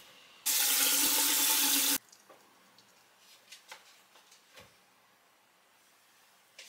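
A bathroom or sink tap gushes for about a second and a half in a loud, steady burst, then shuts off, leaving soft drips and light clicks as someone washes their face.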